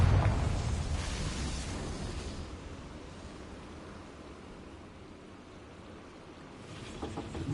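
A Confringo blasting spell erupts in Hogwarts Legacy, opening with a loud, booming burst that decays into a long, rumbling roar and fades, then a fresh crackle rises at the end; no one speaks.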